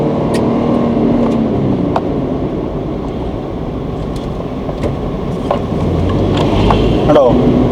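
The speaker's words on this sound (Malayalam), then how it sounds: "ഇനി ഞാൻ CNG ഓൺ ചെയ്തിട്ട് ഒന്ന് റവ് ചെയ്ത് കാണിക്കട്ടോ" Car engine with a Lovato CNG conversion kit, running on CNG and revved in stationary traffic, a steady close engine drone with a slight rise in revs near the end.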